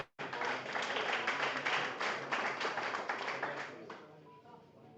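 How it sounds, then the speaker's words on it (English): Audience applause for a first-time seller at an auction, a dense burst of clapping that starts abruptly, holds steady, then thins out at the end. "I think you can all give him a big round of applause"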